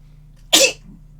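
A single sharp human sneeze bursts out during a game session, a brief loud blast over a low steady background hum, then quick fade.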